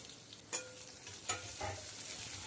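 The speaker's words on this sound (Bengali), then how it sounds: "পেঁয়াজটা আমি ভালো করে নাড়াচাড়া করে নিয়ে একটু লালচে লালচে করে নেব" Garlic and onions frying in oil, a soft, steady sizzle with a few brief scraping knocks from a spoon stirring the pan, quiet and without talk.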